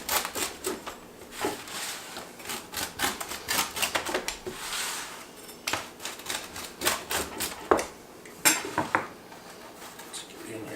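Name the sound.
cutting smoked bacon mac and cheese pizza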